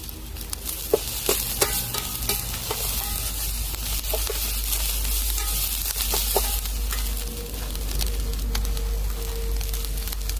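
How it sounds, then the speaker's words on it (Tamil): Bajji chillies saute in oil in a pan with a constant close sizzle, punctuated by occasional sharp clicks and scrapes of a spatula stirring. "இப்போ இந்த பஜ்ஜி மிளகா வந்து வதங்கிறதுக்காக கொஞ்சம் எண்ணெய் ஊற்றுறோம்."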